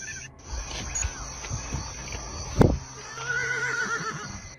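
A horse whinnies faintly amid outdoor ambience with insects chirping, followed by a short sharp snort or knock.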